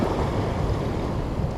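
Ocean surf washing onto a sandy beach during on-foot surf fishing for California halibut: a continuous loud broadband rush of waves mixed with wind buffeting the microphone, with no voices.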